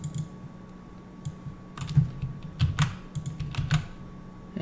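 Close computer keyboard typing comes in quick uneven bursts of clacking keys over a faint steady hum, with nobody speaking.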